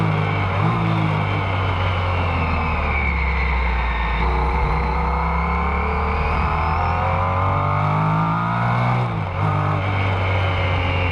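A 1969 Porsche 917K race car, driven by Bruce Canepa at Rennsport Reunion, screams loudly and up close with a high-revving engine, its pitch rising and falling through gear changes, with a brief dip near the end.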